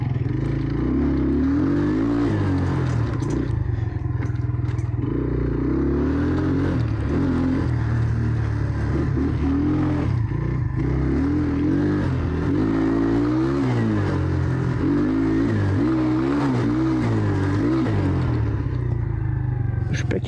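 Jawa Pérák-engined enduro motorcycle revving and rumbling off-road in the rain, a close, rising and falling engine drone throughout, with someone speaking over it.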